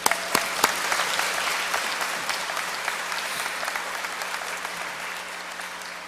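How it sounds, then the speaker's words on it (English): Audience applauding students at an academy awards ceremony, a full, steady round of clapping that opens with a few sharp claps and then continues evenly, slowly easing off toward the end. "They deserve a round of applause for that."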